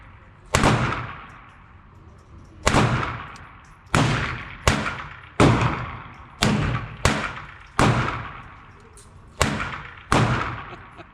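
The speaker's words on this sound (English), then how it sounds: "FNX-45, first shot." An FNX-45 Tactical pistol fired outdoors, nine loud single shots spaced one to two seconds apart, each with a sharp crack and a short echoing decay.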